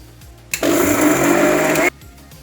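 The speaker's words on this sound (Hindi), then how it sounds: "इस मिक्सर जार में हम मिर्ची और हरे लहसुन को डाल देंगे और इसे हमें पीसना है" A kitchen mixer grinder grinding green chillies and green garlic without water whirs loudly for over a second, a steady high-pitched grinding roar that starts and stops abruptly.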